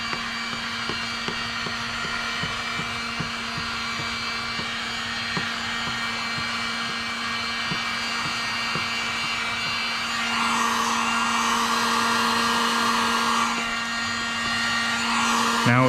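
A heat gun blows a steady, close whirring hum while shrinking window tint film onto the back window of an SUV, growing a little louder and rougher toward the end.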